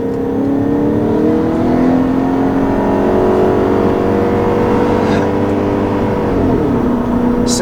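A 2013 Audi RS5 engine revs loud and close throughout, a sustained high-pitched wail with steady harmonics that rises and dips slightly before settling near the end, with no voices over it.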